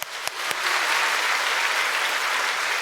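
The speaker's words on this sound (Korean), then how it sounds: "박수!" Children in a church break into steady, dense applause that swells within the first half second and holds evenly to the end, with no talk over it.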